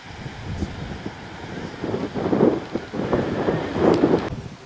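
A strong southerly wind buffets the microphone on a beach at Sevastopol's north side, a continuous gusty rumble rising and falling in waves, with no voices.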